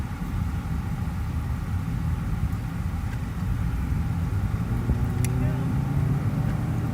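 A car climbs a mountain road with a steady, close engine drone and low road rumble running throughout, slightly louder in the second half.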